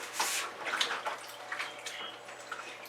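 A paintbrush loaded with fluid acrylic paint is swished and rinsed in a water bucket, giving close, splashy sloshing and dripping in irregular bursts, with no one talking.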